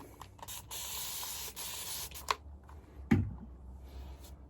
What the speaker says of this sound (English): The spray is absolutely the easiest way to add some water